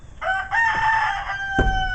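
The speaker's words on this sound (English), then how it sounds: "don't you go to crowing again just because your friends are crowing." A rooster inside a chicken house gives one loud, close crow lasting over a second, followed at once by a short low thump and cluck; no one speaks.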